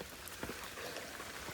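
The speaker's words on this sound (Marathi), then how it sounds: "पाऊस थांबायचं काय नाव घेत नाहीये" Steady rain pours down during a monsoon trek to Visapur Fort at dusk, a dense close hiss of drops drumming on umbrellas and ground with a few louder spatters, continuous through the short stretch.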